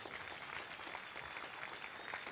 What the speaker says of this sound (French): Monsieur Christophe Lemaire de Mad Movies qui se lève sous les applaudissements